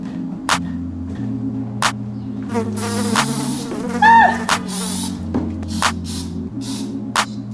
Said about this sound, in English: there is a wasp in my apartment